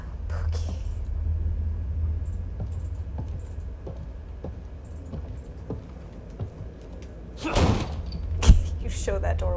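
A door in The Evil Within 2 is slammed and bashed, with two loud heavy thuds near the end after quiet clicks and low rumble, close by and alone.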